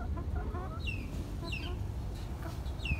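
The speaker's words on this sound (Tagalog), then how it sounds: "Mga manok, oh." Several chickens in a garden cluck and chirp in short bursts over a constant low background rumble, moderately close, on a hot morning in the Philippines.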